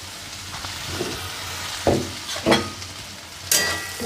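Steady frying sizzle of gourd peels in a pan with a few sharp scraping stirs, close by and moderately loud, no talking.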